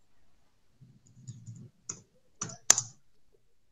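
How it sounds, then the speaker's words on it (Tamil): Sparse keystrokes on a computer keyboard as a Python command is typed: a few separate clicks, then a tighter cluster of sharp taps close by, over a faint low murmur and otherwise quiet background. "இங்க இங்க டைப் பண்ணுங்க, பைத்தான் ஸ்பேஸ் விட்டு."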